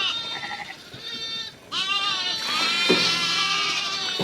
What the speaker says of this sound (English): Can you separate the goats from the sheep?